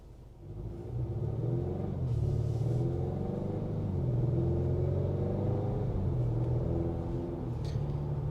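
A 2023 Acura RDX A-Spec's 2-liter turbo four-cylinder pulls under acceleration, heard from inside the cabin as a steady, smooth, moderate rumble with rising and falling engine tones throughout.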